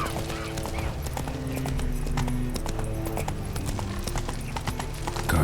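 Roach, Geralt's horse in The Witcher 3, gallops with steady, rapid clip-clop hoofbeats that run throughout and sit over game music and ambience, with a brief whinny in the mix.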